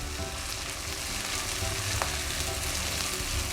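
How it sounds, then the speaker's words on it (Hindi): Garlic ginger paste frying in a pan for a seasoned egg khagina: a continuous crackling sizzle with a faint stir, close and steady, no voices. "इसको भी इसके साथ ही हम भून लेते हैं, ताकि जो लहसुन अदरक की हल्की सी स्मेल है वो ख़त्म हो जाए।"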